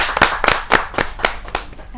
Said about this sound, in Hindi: जोरदार तालियों से आवाज दीजिए शुभम त्यागी जी।